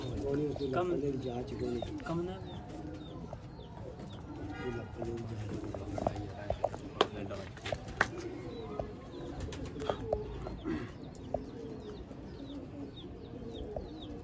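Ferozpuri pigeons coo in a loft, low rolling calls repeating close by, mixed with scattered sharp taps and shuffles while someone talks over them.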